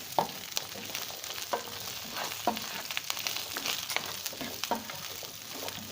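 Garlic frying lightly in a pan, a steady soft sizzle with repeated scraping and stirring clicks at irregular intervals, close and moderately quiet, with no talk.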